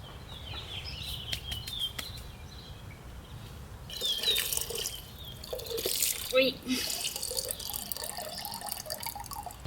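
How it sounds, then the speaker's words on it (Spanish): Water drips and drains slowly through a container in a garden, giving soft, scattered drips and trickles over a low background with faint birds and a brief exclamation. "Sí se ve que el agua está bajando poco a poco."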